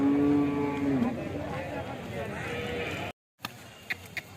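A cow at the Gorantla weekly cattle market gives one long, low moo. Busy outdoor market noise and background voices surround it.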